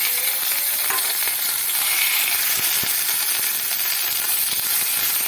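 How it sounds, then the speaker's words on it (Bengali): Taro paste dropped into hot mustard oil with fried cumin and black cumin seeds, giving a steady loud sizzle with crackling pops and a few soft stirring knocks throughout. "আমি কচু বাটাগুলো এর মধ্যে দিয়ে দেব"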